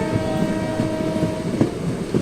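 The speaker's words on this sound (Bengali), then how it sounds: "আমাদের ট্রেন এসে পৌঁছেছে 2 নম্বর প্ল্যাটফর্মে" The Bhagirathi Express arriving at platform 2 of a railway station, a steady loud rumble of rolling wagons with a sustained horn-like tone early on and a few sharp clanks, close to the track.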